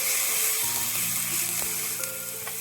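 Steady, loud sizzling as ginger-garlic paste hits onions frying in hot oil in a pan, a continuous close hiss with faint stirring clicks and no talking.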